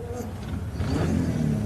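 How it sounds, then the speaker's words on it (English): An off-road race car's Hayabusa-type engine revving roughly at a 4x4 adventure park race, its exhaust sounding faulty and unhealthy, a loud rising drone close by with a rough, uneven tone. "It doesn't sound very healthy, that Gardner machine, does it?"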